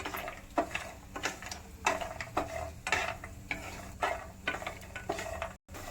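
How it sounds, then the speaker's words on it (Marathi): Walnuts dry-roasting in a pan with other dry fruits for makhana modak, a repeated rhythmic scraping and rattling as a spatula turns them, close and moderately quiet, with no voices. "आणि अक्रोट याला मस्त आपण भाजून घेणार आहे"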